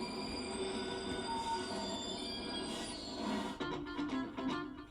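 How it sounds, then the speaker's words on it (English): Paris metro train wheels screech loudly and continuously along the rails, with rumbling and clattering underneath as the train moves. "From the screech of the metro to the rev of a motorcycle"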